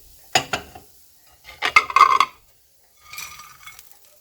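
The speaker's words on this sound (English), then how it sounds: "So you just keep stirring this one for about 5 minutes" Anchovies stirred in a frying pan for nasi lemak: short bursts of scraping and rattling, a couple of quick strokes, then a denser cluster, then a softer rasping pass, close with quiet gaps between.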